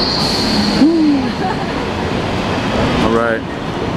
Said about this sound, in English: This is what it looks like when we get on the train in Korea.